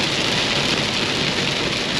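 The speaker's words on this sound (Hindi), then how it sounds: "यू कैन सी ज़बरदस्त बारिश हो रही है" Heavy rain pours steadily on a road in Delhi during a cab ride home from a failed cycling ride, a dense, constant hiss with faint rumbles beneath and no voices.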